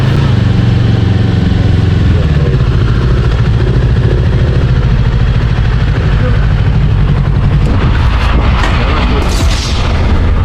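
Loud, rumbling exhaust from a motorcycle being cited by traffic police, a continuous heavy low drone filling the whole stretch with slight surges near the end.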